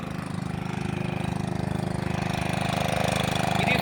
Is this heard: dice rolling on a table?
no